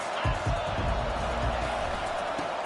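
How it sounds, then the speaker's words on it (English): Stadium crowd at a college football game, a steady loud roar with thumps and rumbles throughout, carrying on without a break. "This crowd trying to make life miserable for this offense."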